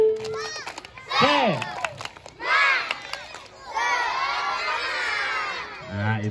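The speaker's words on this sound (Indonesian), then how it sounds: "Ayo kita mulai lagi. Tepuk semangat." A group of children shout a rhythmic tepuk semangat clapping chant in energetic bursts, loud and close, with brief gaps between the chanted phrases and an adult voice in between.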